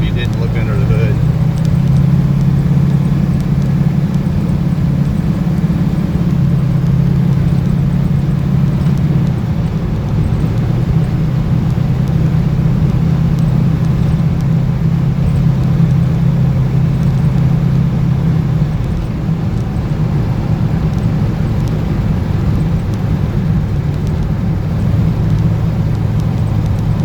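A 1968 Pontiac Firebird with a 455 Ram Air V engine cruises at 45 mph, a loud, steady low engine drone with constant road and wind noise throughout.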